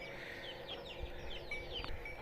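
Aseel and golden-breed chickens, a rooster among hens kept at home, cluck and chatter in short repeated calls close by, with several overlapping birds and no talk.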